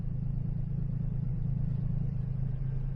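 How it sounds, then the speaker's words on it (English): A 2007 Jeep Liberty engine idles smoothly after new oxygen sensors are fitted, giving a steady low rumble that is close and even throughout, with no voices. "Car is idling perfectly."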